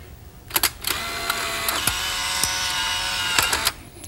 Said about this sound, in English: You fire. Take another picture.